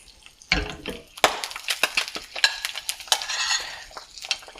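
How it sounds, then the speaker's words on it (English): Butter sizzles in a pan while a metal spoon repeatedly ladles it over a frying sunny-side-up egg, scraping and clinking, with spattering bursts between the strokes. "just continually ladling this butter right on top of the egg to get it cooked"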